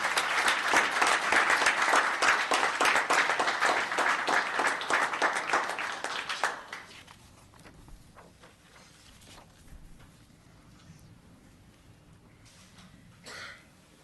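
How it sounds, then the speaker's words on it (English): Applause fills a town council meeting chamber, a dense burst of many hands clapping for about six seconds, then dying away to quiet room noise with a faint cough. "Let's give him another round of applause."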